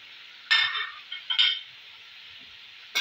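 Onion, salt and white pepper stir-fried in a pan, heard as a soft background sizzle broken by a few sharp close scrapes and clinks of a utensil against the pan.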